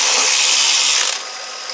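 A steady, bright mechanical whir and ticking from a running Nissan Altima engine with a noisy belt tensioner, loud and close, easing slightly toward the end.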